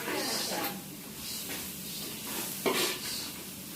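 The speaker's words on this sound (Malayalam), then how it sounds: "എന്നിട്ട് ഇവനെ നല്ലോണം വിട്ട് അങ്ങോട്ട് ഉള്ളിയുമായിട്ട് അങ്ങോട്ട് ഇളക്കി കൊടുക്കുക" Chicken masala with onions being stirred in a pan, a steady sizzle with scraping spoon strokes and a sharper clatter near the end, continuous and fairly close.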